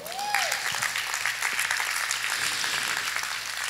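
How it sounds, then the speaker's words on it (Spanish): A church congregation applauding during a sermon, steady dense clapping from a crowd filling the room, moderately loud and sustained throughout, with a brief whistle-like tone at the start. "Dele un aplauso al Señor."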